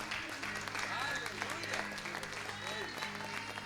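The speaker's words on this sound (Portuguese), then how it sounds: "nosso pastor Rogério, em nome de Jesus, com palmas que glorifica e exalta o nome do Senhor." A church congregation claps and applauds in welcome at an evening service, a steady, moderately faint wash of hands with crowd murmur and voices mixed through it.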